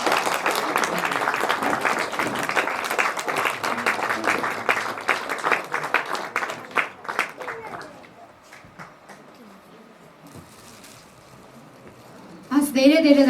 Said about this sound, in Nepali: ताली अलिक पुगेन जस्तो लाग्यो।